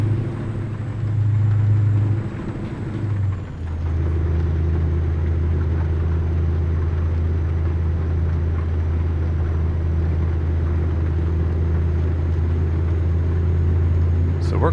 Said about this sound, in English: So we're climbing up this mountain in this truck.